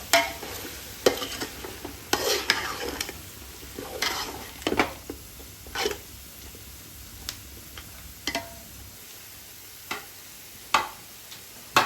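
Fried onions being stirred into a biryani masala for Thalassery mutton biryani, with a spoon scraping and clinking against the pot in irregular strokes, close and fairly loud, and a faint sizzle beneath.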